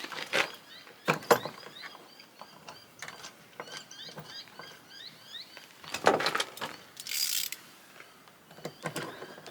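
Small plastic-and-metal clicks, scrapes and taps as a window winder handle with a plastic cover is fitted onto a Mack CHR truck door, scattered and quiet with brief rattles and a short hiss near the end.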